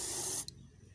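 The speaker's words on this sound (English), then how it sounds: "I need to spray it because of rust." An aerosol spray can hisses loudly and steadily as rust protection is sprayed onto a cut edge of a car door on a 2008 Camaro, then stops abruptly partway through, leaving a quiet room.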